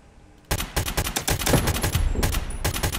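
Sudden sustained automatic gunfire in a free Escape from Tarkov-style FPS video game, a loud close stream of rapid shots after a quiet start, with no talk.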